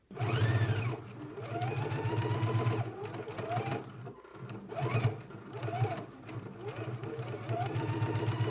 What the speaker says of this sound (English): then we can stitch using a 5/8 of an inch seam allowance, and then finish off your seam with your serger